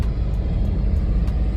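A car rolling along a road in Zimbabwe, a steady low rumble of engine and tyres heard from inside the cabin, continuous and fairly loud with no talking.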